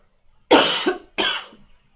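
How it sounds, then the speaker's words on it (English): A man coughs twice in close succession, loud and near, with a brief pause between the harsh bursts and quiet before and after. "I really apologize for my coughing."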